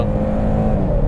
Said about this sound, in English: Brakes in, gas in, and out we go.